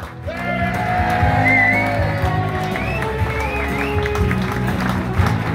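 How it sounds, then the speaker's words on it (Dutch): An audience at the closing-day Top 2000 à gogo charity broadcast applauds and cheers steadily for several seconds, dense clapping mixed with whoops and raised voices over tonal music-like sounds. "doe eerst maar even verschrikkelijk klappen"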